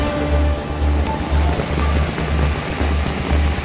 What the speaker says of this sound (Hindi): ये सारा मिल्लत नगर से होता हुआ पानी आ रहा है।